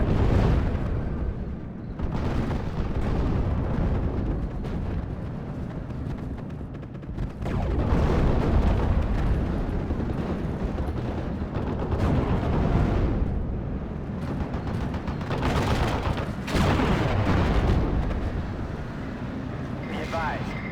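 An artillery barrage in the Normandy 1944 war game Steel Division rolls on with continuous heavy booms and rumbling blasts in dense, overlapping waves, loud and sustained, with radio voices under it.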